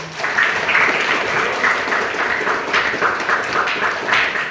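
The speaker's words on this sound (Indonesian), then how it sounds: "Tepuk tangan." Children in a classroom clap their hands together, a busy continuous patter of many small claps at close range, steady throughout.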